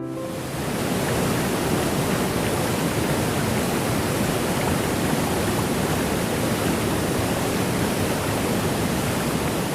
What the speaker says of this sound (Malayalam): മലമുകളിൽ നിന്ന് വെള്ളിത്തൂവൽ പോലെ താഴേക്ക് പതിക്കുന്ന വെള്ളച്ചാട്ടം